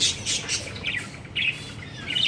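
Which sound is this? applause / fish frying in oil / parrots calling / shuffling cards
parrots calling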